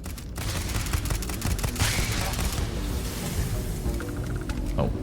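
Rapid gunfire rattles through a Starfield firefight, dense bursts of shots under a constant low rumble, loud and close, with a few brighter mechanical clicks near the end.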